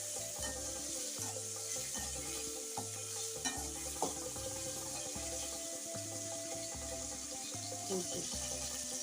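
Onion and tomato sautéing in a pan for chicken biryani, with steady close sizzling and a busy run of stirring scrapes and knocks throughout, plus faint background voices.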